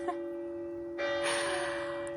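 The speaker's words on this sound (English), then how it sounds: "Oh, the bells." Bells ring with a sustained tone that swells into a louder, brighter peal partway through, with no voices over them.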